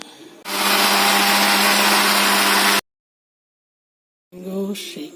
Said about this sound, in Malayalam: മിക്സിയിലേക്ക് ഇടുന്നു.